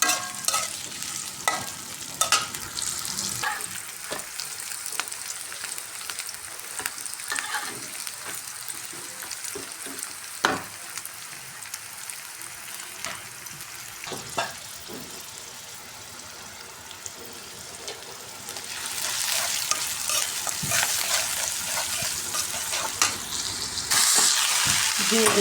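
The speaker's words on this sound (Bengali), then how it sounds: "দিয়ে দিলাম পেঁয়াজ মরিচ লাল করে।" Onions and chillies fry in a pan with a steady sizzle that runs right through, broken by scraping and stirring clatter and brief knocks. The sizzle swells louder toward the end.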